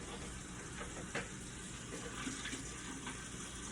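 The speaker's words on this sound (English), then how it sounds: "I rinse every container out before I throw it in the trash" A container being rinsed under running tap water, giving a continuous close hiss and splash with a few brief sharper splashes.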